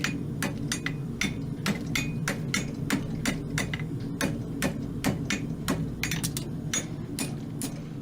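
Steady hammer strikes ring on an anvil as a fullered concave hind riding-horse shoe is shaped over the bick, sharp metallic blows repeating at a quick, uneven rhythm over a low background hum.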